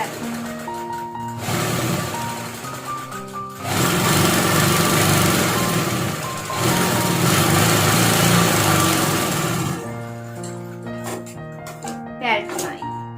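An electric sewing machine stitches a seam on a back knot blouse, its motor whirring in steady bursts that stop and start, with a person talking throughout.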